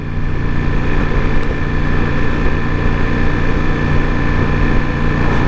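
Ducati Multistrada V4 Rally motorcycle engine lugging in fifth gear at about 3,500 RPM, a loud, steady, low droning rumble with constant wind roar and no talking.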